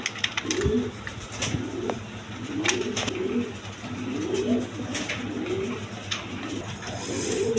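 Several lively pigeons at a bird sale coo in a steady, repeating rhythm, loud and close, with faint background noise throughout.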